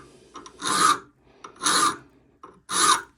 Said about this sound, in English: the less filing you have to do